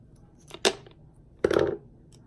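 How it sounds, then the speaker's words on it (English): Two sharp snips about a second apart as a shell is cut from a necklace, quiet and close, in an otherwise hushed room. "So I'm going to be cutting these shells off of this necklace."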